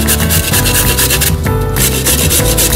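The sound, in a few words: grating a carrot on a fine grater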